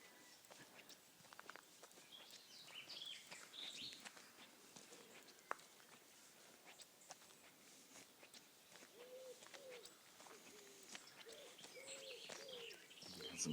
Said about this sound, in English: Some collared doves, I think, or wood pigeons.